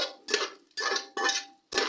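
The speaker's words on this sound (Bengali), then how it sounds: "কাজু আর কিশমিশটা আমি একটু ঘিতে নাড়াচাড়া করে ভেজে নেব" A spatula scrapes and stirs cashews and raisins frying in ghee in a pan for carrot halwa, giving four separate close, clattering strokes with short pauses between them and no talking.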